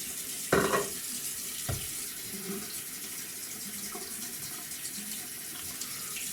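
A bathroom tap runs steadily while shaving lather is rinsed away, a continuous hiss of water with a couple of brief splashes and knocks near the start.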